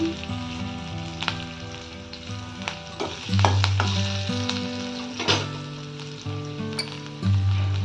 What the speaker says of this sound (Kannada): ಈಗ ಇದಕ್ಕೆ ಹೆಚ್ಚಿಟ್ಕೊಂಡಿರೋ ಬೆಳ್ಳುಳ್ಳಿಯನ್ನು ಹಾಕಿದ್ದೀನಿ